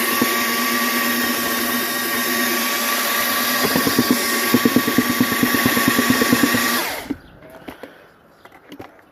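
A power drill whirs steadily with a paddle churning thick mortar for mosaic glass tile, rhythmic thumps building before the motor cuts off and it goes quiet.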